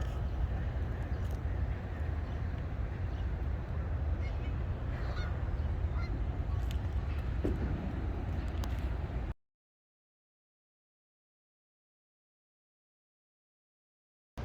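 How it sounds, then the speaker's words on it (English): A flock of Canada geese in a park by a pond honks continuously amid steady outdoor noise, then everything cuts to silence. "this gang of Canadian geese, man. They're mean."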